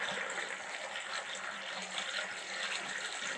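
Water from a bucket or tap running into a first-floor bathtub drain in a 1920s duplex under rehab, a steady, quiet rushing and gurgling flow with no break.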